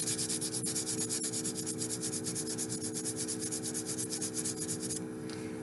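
Quiet, rhythmic back-and-forth rasping of a metal earring's edges being sanded smooth, steady close strokes repeating evenly before easing off at the end.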